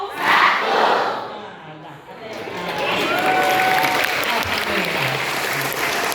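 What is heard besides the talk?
audience clapping rhythm concentration game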